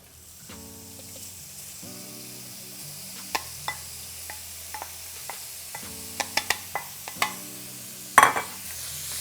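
Lean ground beef going into a very hot pan and frying, with a steady close sizzle and scattered sharp spatula clicks and taps against the pan, ending in a louder scrape.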